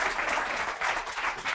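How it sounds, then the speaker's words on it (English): Brief applause from an audience at a Google event, a dense steady wash of clapping heard alone and fairly loud. "So round of applause, everyone."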